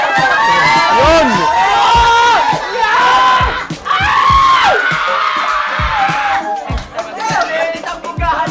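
Loud, high-pitched screaming and shrieking from a crowd at a tight, close game in a mansion, with cheers and shouted voices running continuously over the whole stretch and peaking in repeated bursts.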